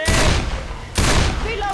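Two loud grenade blasts in Left 4 Dead 2, each a sharp close boom with a decaying roar, the second followed by a bright ringing tail and what sound like faint voices.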